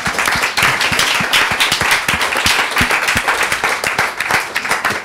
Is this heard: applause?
yes